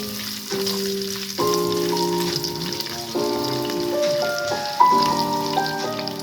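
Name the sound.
ginger sautéing in oil for chicken biryani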